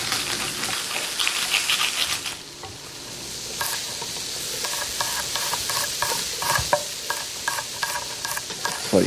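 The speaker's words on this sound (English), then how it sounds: "Another good flavor-based ingredient, garlic. Very pungent. Definitely needs to be sauteed a little bit, sweated." Sliced garlic sautés over medium heat in a pan, with a bright crackling sizzle up close. Repeated quick scraping stirs of a utensil follow one another, briefly dipping quieter midway, and nobody talks.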